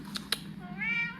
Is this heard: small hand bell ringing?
no